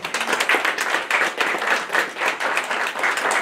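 An audience at a presentation event claps in a dense, even patter of applause that holds steady for a few seconds.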